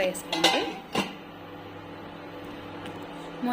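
Metal clatter of a lid set onto a pot of rajma curry, with a couple of sharp clanks near the start and then quiet kitchen room tone.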